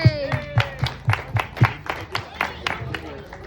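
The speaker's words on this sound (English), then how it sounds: "let's give her a round of applause" Rhythmic clapping from a small crowd at a political campaign event, a steady beat of about a dozen claps close by, with a voice talking over the start.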